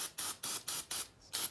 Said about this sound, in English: we were starting to spray it down with